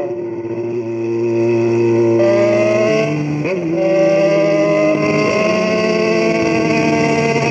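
Yamaha XJ6 motorcycle accelerating hard, a loud close engine note climbing in pitch through several gears with brief dips at each shift, no talk.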